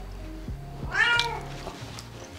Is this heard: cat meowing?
yes